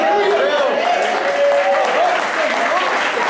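Evangelical congregation applauding during a Portuguese-language church service, a steady dense wash of clapping with voices calling out over it throughout.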